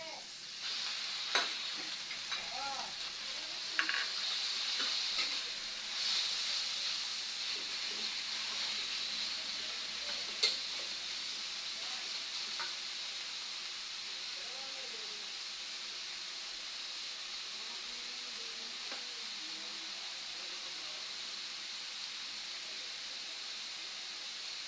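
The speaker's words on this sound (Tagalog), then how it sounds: "Igisa-gisa natin hanggang sa maging brown lang itong ano, itong giniling natin." Ground meat sautéing with tomato in a pan for ginisang labong, a steady close sizzle and hiss with occasional stirring scrapes throughout.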